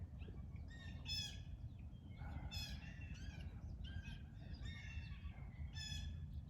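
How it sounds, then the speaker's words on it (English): Several birds chirp and sing in repeated bursts over a steady low outdoor rumble, the calls fairly close and lively. "Got the birds singing."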